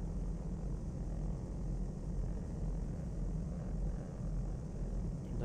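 Low, steady drone of an idling propeller aircraft engine in Flight Sim World, a constant rumbling hum with no change in pitch throughout.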